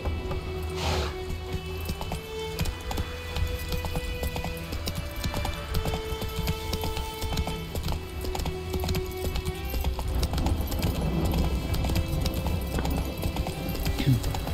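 A horse gallops with steady clip-clop hoofbeats in The Witcher 3 video game, set against constant game ambience and background music throughout, with a voice speaking briefly early on.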